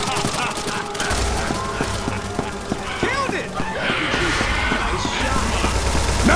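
Gunfire and chaotic combat in Left 4 Dead 2, with repeated shots and crashing hits mixed with shouting voices and game effects, loud and busy throughout.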